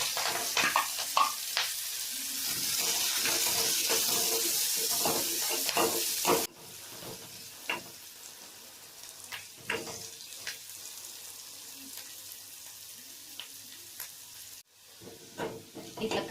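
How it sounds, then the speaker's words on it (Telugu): Chopped onion, green chilli and curry leaves frying in a pan with a jowar snack, a loud steady sizzle that drops to a quieter hiss, with scattered stirring clicks and scrapes. "కట్ చేసి పెట్టుకున్న ఆనియన్, పచ్చిమిర్చి, కరివేపాకు ఇవి ఫ్రై చేసుకోవాలి"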